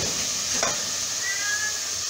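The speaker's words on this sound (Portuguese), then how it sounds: "Eu boto a cebola porque conforme vai fritando a carne" Meat and onion fry in a pan with a steady close sizzle, and a brief stir or scrape of a utensil cuts through partway.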